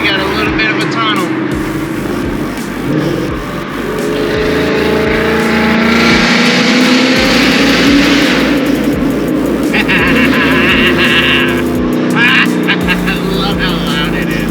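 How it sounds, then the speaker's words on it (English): Loud car engine roaring while driving through a tunnel with the windows down on a cold road trip, a continuous heavy rumble and wind noise with someone talking over it. "My car is slow but loud."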